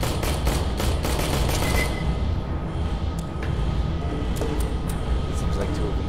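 Video game enemies firing, rapid bursts of automatic gunfire that stay loud for the first two seconds, then thin out into scattered distant shots under a low background rumble.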